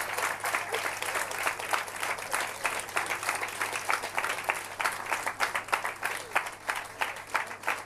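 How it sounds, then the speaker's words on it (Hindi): A classroom of students claps hands in sustained applause, a dense run of many close, loud claps lasting throughout with no pauses. "सब ताली बजाओ।"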